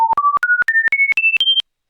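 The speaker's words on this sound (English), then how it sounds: "We're going to mix those together into both ears as a sine wave for a fifth of a second." Seven short pure sine tones generated with SoX step upward in pitch, each lasting about a fifth of a second with tiny gaps between, loud and clean, ending in silence.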